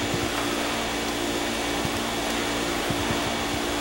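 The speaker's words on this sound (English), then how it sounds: "Alrighty, so we're gonna keep vacuuming this up." Steady, loud whooshing roar of a vacuum pulling in ghosts in the video game Luigi's Mansion, running continuously without breaks and with no talk over it.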